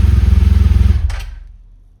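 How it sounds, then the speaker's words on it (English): A 2016 BMW R1200GS motorcycle engine idles close by with a loud, even pulsing thump, then shuts off about a second in and dies away to silence. "If I shut down now the system or turn off the bike, look what happens."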